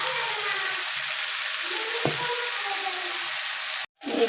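Water running and splashing steadily while a mixer jar is rinsed in a kitchen, a continuous close hiss with a brief break near the end.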